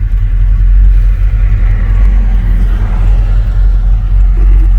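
A 1986 Chevy's engine, freshly fitted with a swapped intake and carburetor, runs at a loud, close, steady idle, a deep continuous rumble with slight wavering and no voices.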